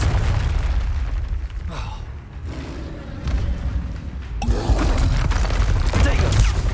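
Confringo blasting spell explosions in Hogwarts Legacy, loud booming blasts over a dense, rumbling battle din, with a fresh burst near the end.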